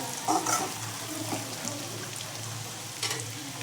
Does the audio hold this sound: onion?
yes